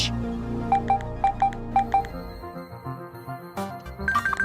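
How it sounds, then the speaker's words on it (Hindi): A mobile phone rings late at night with a repeating electronic melody of short bright tones in a steady pulse, fairly loud, before it shifts into a busier jingle. "इतनी रात को किसका फोन है?"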